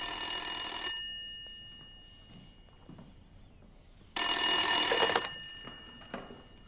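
An old-style telephone bell rings in two loud, rattling bursts about three seconds apart, each lasting around a second, with near silence and faint movement between them.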